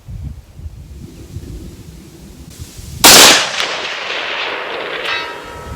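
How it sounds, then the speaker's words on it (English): A single loud, sharp rifle shot from a PSA 18-inch .308 Sabre AR10 firing cheap military ball ammo at 500 yards outdoors, cracking suddenly after quiet wind noise and ringing off in a decaying echo. "Let's just see what we can do at 500 with that cheap military ball ammo."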